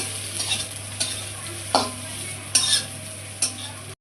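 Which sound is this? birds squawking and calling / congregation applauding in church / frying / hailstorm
frying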